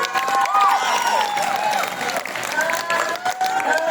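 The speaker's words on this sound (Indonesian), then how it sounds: "Beri tepuk tangan." Audience applauding after a stage performance, steady crowd clapping with cheering and voices mixed in, close and continuous throughout.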